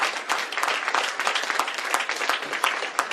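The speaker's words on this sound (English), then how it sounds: "So please give a round of applause to Mayor Wilson as well for being here in her city" A round of applause for Mayor Wilson at a governor's bill signing event: a modest crowd claps steadily and fairly close, with individual sharp claps standing out, lasting a few seconds without talk.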